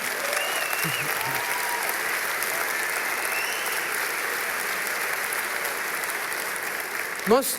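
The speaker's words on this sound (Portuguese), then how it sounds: "Pode aplaudir ao Senhor." Church congregation applauding the Lord during a sermon, a continuous roar of many hands clapping, steady and enveloping, with a few raised voices and cheers drifting through.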